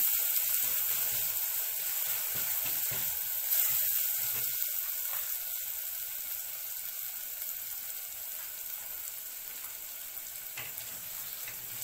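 Onions fry in a pan for Egyptian macaroni béchamel, giving a steady, fairly faint sizzle that runs on unbroken with no one talking.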